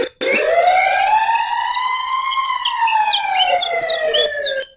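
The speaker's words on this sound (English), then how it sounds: "Okay, it sounds like the ambulance sound." A loud, close siren wails in one long, steady rising-and-falling sweep, clear and alone with no other sounds.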